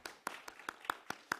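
Seven slow, evenly spaced claps from a church congregation, fairly faint and sharp, with no talk over them.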